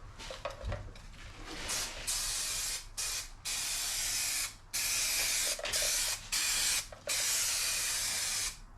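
Spray adhesive hisses out in repeated sharp bursts, about seven, some short and some sustained, while carpet lining is glued around the outside edge inside a Citroen Dispatch micro camper van.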